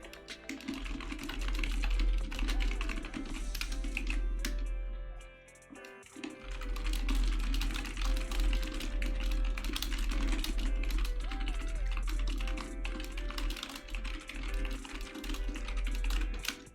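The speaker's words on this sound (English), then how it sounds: "That's me typing to Riri super fast" A computer keyboard clatters in a rapid, continuous burst of fast typing, with one short pause midway, over a steady low hum in the background.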